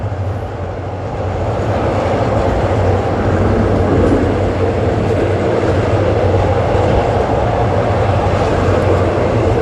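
Hitachi-built commuter train, service 135, running from Bangkok's central Krung Thep Aphiwat station toward Don Mueang, a loud continuous rumble with steady low drone and wheel noise heard from inside, no talk.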